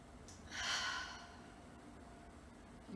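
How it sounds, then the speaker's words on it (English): A single soft breath pushed out through the mouth during a vinyasa yoga flow, a brief airy exhale that fades into near silence. "Out the mouth, exhale, release."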